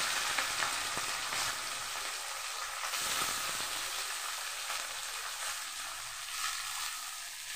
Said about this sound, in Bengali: ওইটাকে আমি ভাজতে থাকি